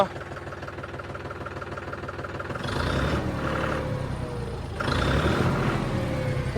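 A vehicle engine fitted with a new hand throttle runs steadily, then revs up sharply twice, each surge a loud, close roar over the idle.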